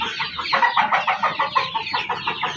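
Farm chickens, half-kilo broilers, cluck in a rapid, irregular series of short close calls, several birds overlapping with no talking.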